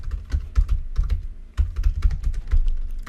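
Quick bursts of typing on a computer keyboard as web page code is entered, irregular clusters of close, crisp key clicks with a brief pause midway.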